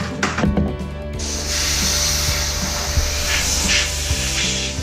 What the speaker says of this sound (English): hit it with the compressed air as quickly as I can